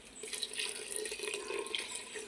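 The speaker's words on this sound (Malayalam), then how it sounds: "കുറച്ച് വെള്ളം കുറഞ്ഞു പോയി, അതുകൊണ്ട് നമ്മൾ വെള്ളം ഒഴിക്കാൻ പോക്കാണ്." Water pours steadily into a pot of rice soup (kanji) with a soft, continuous splashing trickle, fairly quiet and close.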